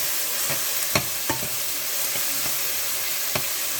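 Steady sizzling of ginger garlic paste frying in a pan, with a few sharp scraping knocks of a spoon stirring through it.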